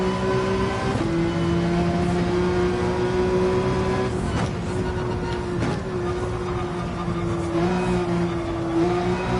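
A race car engine in the video game Gran Turismo 7 drones loud and steady under full throttle, a sustained harmonic whine with brief dips at gear changes and faint tire noise.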